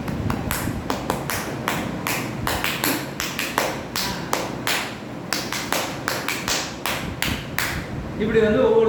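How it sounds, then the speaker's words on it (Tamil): Steady rhythmic hand claps from a group, the traditional clapping that accompanies the Tamil Thiruthellenam song, beating at quick even intervals throughout, with a brief voice near the end. "கையை தட்டுவாங்க"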